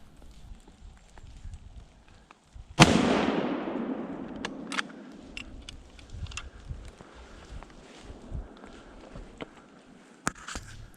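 A single loud rifle shot cracks out during a wild boar hunt, its report rolling away into a long fading echo, followed by faint scattered rustles and small distant noises outdoors.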